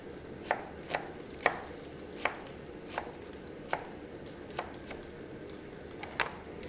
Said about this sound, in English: So we're just going to just roughly